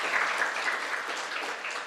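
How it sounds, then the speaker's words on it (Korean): A church congregation claps in encouragement during a Sunday evening service appointment ceremony, a steady, moderately loud patter of many hands with no pauses. "격려 박수 부탁드립니다."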